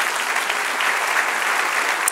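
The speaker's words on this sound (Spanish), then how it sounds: "Denle un aplauso al Señor" A church congregation applauds during a Spanish-language sermon, a steady, full burst of many hands clapping together for a couple of seconds, with a faint shout near the end.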